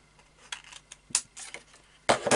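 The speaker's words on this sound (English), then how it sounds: "we're going to cut a diagonal from the point of the paper, the point of the paper, to that central paper there. Okay, so just gently with your scissors." Scissors cutting diagonally through paper for a 12x12 spiral album, a few short crisp snips and rustles spaced irregularly, close and fairly quiet, with no talk.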